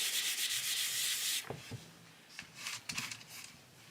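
Eraser rubbing over coloured pencil on paper in a 2024 weekly planner, a steady close scratchy scrubbing for about a second and a half, then a few shorter separate rubbing strokes.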